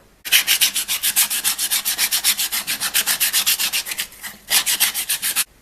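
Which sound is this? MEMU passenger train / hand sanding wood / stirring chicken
hand sanding wood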